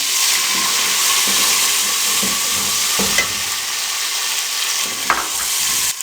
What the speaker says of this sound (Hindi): प्याज ब्राउन हो चुके हैं। अब इसमें हम टमाटर डाल देंगे।